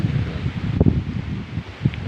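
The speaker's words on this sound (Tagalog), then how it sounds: "Lakas pa yung hangin" Strong wind gusts through banana plants and lemongrass on a farm, a continuous, near rustle of leaves with brief louder surges and no one talking.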